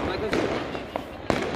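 Diwali firecrackers set off during a family celebration, several sharp bangs and crackles popping in the open air amid chatter and voices talking nearby.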